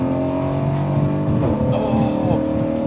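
Nissan GTR V6 engine with exhaust valves open, loud and close, revving up hard toward 7,000 rpm in a continuous rising snarl with a shift partway through.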